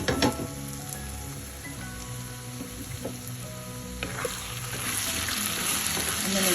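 Brinjal and potato fry in a pan on a low flame, giving a steady, close sizzle and crackle that builds slightly toward the end, with occasional soft clinks of stirring.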